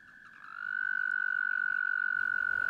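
A spring toad gives one sustained, high, buzzing trill that swells in over the first half second, then holds steady and loud, close by and alone against a quiet background.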